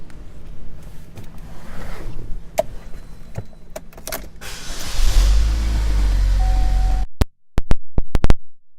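Power windows on a 2013 GMC Terrain SLE run with a low motor hum for about two seconds, set among car interior clicks and handling noises, then several sharp clunks follow.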